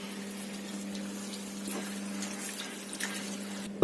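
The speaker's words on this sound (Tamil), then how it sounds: "இப்போ தண்ணி ஊத்திக்கலாம்." Steady pouring of water into a pot of chicken curry over a constant low hum, a continuous liquid rush with no talking.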